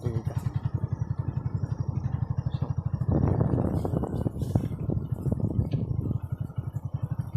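A motorcycle rides along a village road with a steady rapid engine putter, close and prominent, growing rougher and louder in the middle stretch before easing back.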